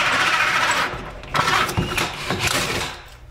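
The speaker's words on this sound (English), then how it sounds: "I'm gonna drill a hole in the side of the vanity." A power drill bores a hole through the wooden side panel of a bathroom vanity being modified to fit a mobile home, with a steady close whirring and a few surges and dips in load as the bit cuts through.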